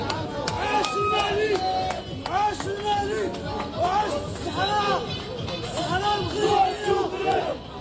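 A dense crowd of Algerian football fans in a stadium shouts and chants together in rising, rhythmic waves of cheering, loud and close, with layered voices throughout.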